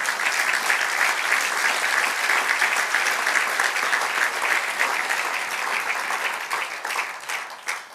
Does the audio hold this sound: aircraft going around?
no